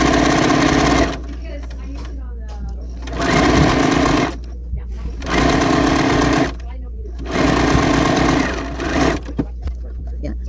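A sewing machine runs in three loud bursts of stitching with elastic shirring thread in the bobbin, separated by pauses where someone talks.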